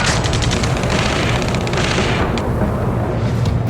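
Gunfire and explosions from the video game Ace Combat 7 fill the scene with dense, continuous rumbling blasts and rapid bursts, loud and unbroken throughout.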